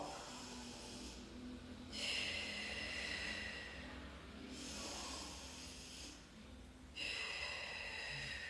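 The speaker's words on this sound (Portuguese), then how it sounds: "Vê se você consegue respirar desse jeito, abrindo bem a costela." Deep, slow breathing during a rib-opening posture exercise: several long, hissing breaths rise and fall in cycles, close and fairly loud, with no talk.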